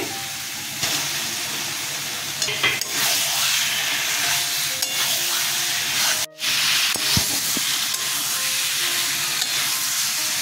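Potatoes added to a pan of water lily stems fry in hot oil, giving a loud steady sizzle with occasional stirring scrapes and one brief dropout partway through.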